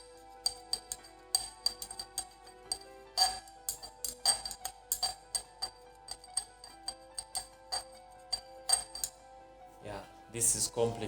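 A glass rod stirs iodine solution in laboratory glassware, giving a run of light, irregular clinks and taps against the glass, close and fairly quiet, with a brief louder scrape near the end.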